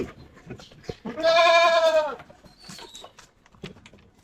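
A backyard goat gives one loud, drawn-out bleat that stands out clearly, with scattered quieter farmyard sounds before and after.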